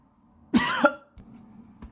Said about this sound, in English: sorry about that one little coughing fit